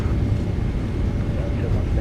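In the PMDG 777-200ER airliner in a flight simulator, thrust reversers deploy on landing, giving a steady, loud, low roar with wind rush under a voice.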